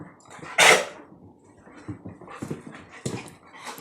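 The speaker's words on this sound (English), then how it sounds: "Two female dogs." Two female dogs at play, a five-year-old and a big six-month-old yellow Labrador puppy, with one loud close bark or yelp near the start followed by scattered softer grunts, growls and whines.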